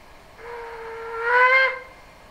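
A short steam whistle sounds from a Brawa class 01 model locomotive with new-build boiler, Epoch IV, digital. It is a single steady hissing tone lasting about a second and a half that swells slightly before cutting off, heard alone and close.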